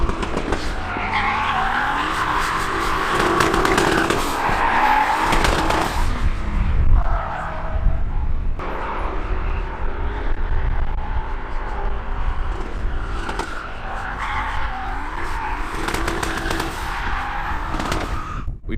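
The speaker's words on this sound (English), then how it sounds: "he also has a 1JZ Cresta, and it's always nice to watch it drive" A 1JZ-engined Toyota Cresta drifts nearby, its tires squealing and its engine roaring in long rising and falling passes for nearly twenty seconds, with no speech.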